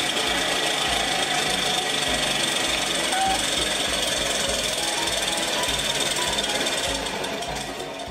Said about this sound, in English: Here's an old radial engine still in working condition.